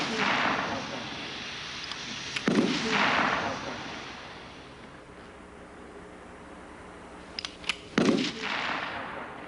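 Several sharp gunshot cracks ring out at Niki de Saint Phalle's shooting paintings, a few loud isolated bangs spaced seconds apart with a roomy, echoing tail and faint background noise between them.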